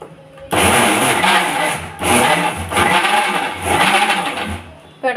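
A kitchen mixer grinds peanuts with sugar for homemade peanut butter, running in loud whirring bursts with short pauses between pulses, close and alone.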